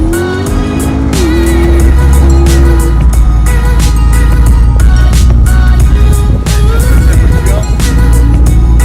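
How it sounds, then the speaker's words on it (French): A KTM X-Bow sports car drives past in rainy weather at the Arts & Elegance Chantilly 2016 show. Its engine gives a loud, close, continuous drone with shifting rev tones and a wash of surrounding noise. "C'est courageux la KTM Crossbow avec ce temps pluvieux."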